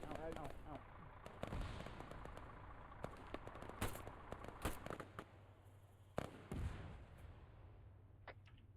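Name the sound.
rocket impact explosion in a military video game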